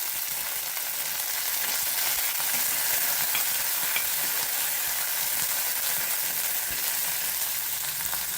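Curry leaves and green chillies frying in hot oil, a dense, continuous crackling sizzle that holds at an even level throughout, close and with no voices.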